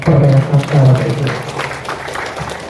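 Audience applause breaks out at a motivational business talk, a broad patter of clapping that follows a brief voice and holds at a moderate, steady level.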